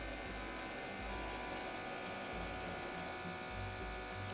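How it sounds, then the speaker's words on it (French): Tap water runs steadily into a kitchen sink as vegetables are rinsed a second time to wash off soil, a continuous close splashing with no voices. "on va vider l'évier et on va relaver nos légumes une deuxième fois"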